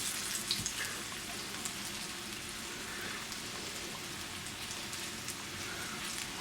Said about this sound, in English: fry up this chicken and get it nice and brown on each side